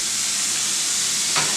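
Southwestern veggie burgers sizzle loudly in a hot pan just after being flipped, a dense steady frying hiss throughout with a brief scrape of the spatula near the end.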